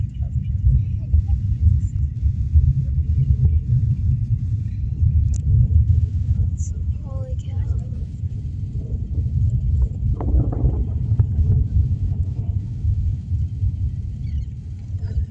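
Deep, continuous rumble of a rocket launch heard from a distance, steady and powerful throughout, with a person exclaiming briefly partway through.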